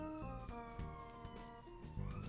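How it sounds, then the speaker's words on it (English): Wailing emergency vehicle sirens sound in a Cities: Skylines city, steady overlapping tones sliding in pitch, fairly loud and alone without talk. "Sirens!"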